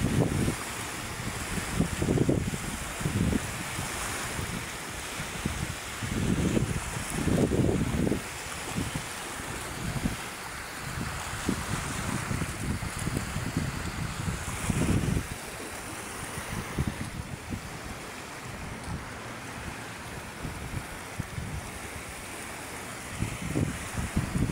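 Waves on Manila Bay wash in steady, rolling surges with heavy wind buffeting the microphone, a continuous roar without voices.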